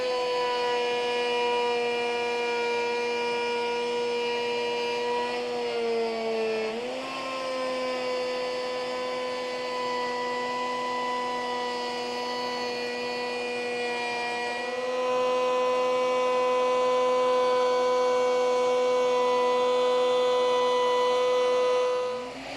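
Router bit cutting a half-inch rabbet slot in wood, a loud, steady high-pitched whine sustained throughout, dipping slightly in pitch midway as the bit loads in the cut, then spinning down at the end.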